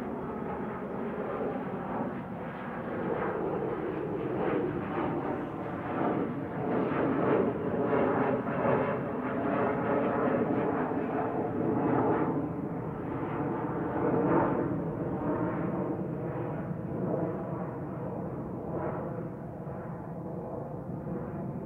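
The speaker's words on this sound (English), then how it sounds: "there's another plane departing" A Loganair plane departs Manchester Airport for Aberdeen, a steady broadband engine roar holding loud and fairly close for about twenty seconds with no talk over it.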